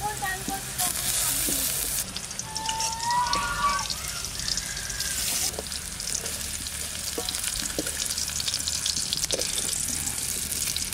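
Wild forest mushrooms fry in oil in a pan with a loud, continuous crackling sizzle and occasional stirring scrapes, heard close and alone throughout.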